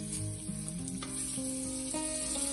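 Butter sizzles on a hot tawa griddle while pav bhaji is made, a steady close hiss under a few clear sustained musical tones.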